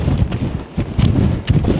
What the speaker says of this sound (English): Windy, eh?